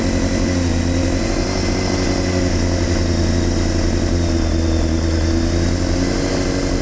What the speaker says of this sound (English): Smooth running motor though. It's a Honda.